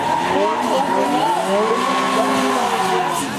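A turbocharged drift car from Formula Drift competition at Pacific Raceways in 2013 screams continuously at high revs with sustained tire squeal, loud and unbroken throughout, while a commentator talks over it.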